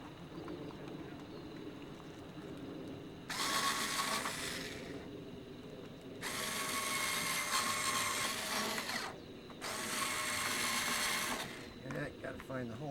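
Power driver sinking 2 1/2 inch sheet metal screws into a 1993-02 F-Body roof panel cover, three loud whirring bursts of a few seconds each separated by quieter pauses, close up.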